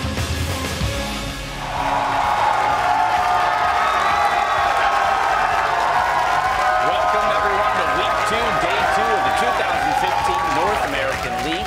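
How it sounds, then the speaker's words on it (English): Crowd roaring and cheering in a Los Angeles arena at a League of Legends championship series game day, a sustained loud wash of voices that swells after a short quieter opening, with a voice talking over it. "The crowds are going wild here in Los Angeles."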